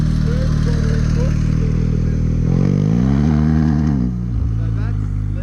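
A BMW GS motorcycle engine pulls up under smooth throttle on a loose-edged road, a steady mid-pitched drone climbing in revs then easing off, with talking over it.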